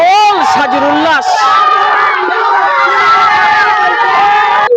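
Spectators at a village friendly football match roar and shout after a goal, a loud close burst of voices and whoops sustained throughout.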